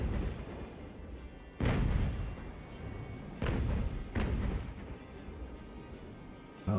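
Cannons firing grapeshot in the naval battle game Ultimate Admiral: Age of Sail: three heavy booming blasts, each a loud thud with a rolling tail, over a steady low rumble of wind and sea.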